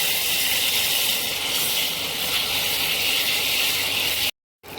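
Water poured into a hot pan of egg chili masala sends up a loud, continuous steaming hiss that stays steady throughout and then cuts off abruptly near the end.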